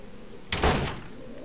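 A door opens in the video game Pocket Mirror with a single short whooshing, creaky burst that swells and fades within a second over a faint ambient hum.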